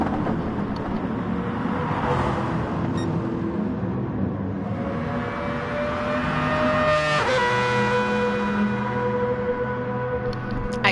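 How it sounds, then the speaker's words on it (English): A GT3 race car in a sim racing game at Brands Hatch GP drones steadily at high revs, its engine note sliding and shifting pitch through gear changes, loud and continuous for the whole stretch. "Lamb is so close that we can hear Lamb's car when the camera's on Tommy."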